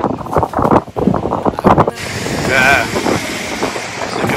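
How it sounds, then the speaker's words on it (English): Strong cyclone wind blowing hard in Mauritius, a loud continuous roar with gusty buffeting against the microphone, heard under a man's speech during the first seconds. "so you can see the power of the wind here"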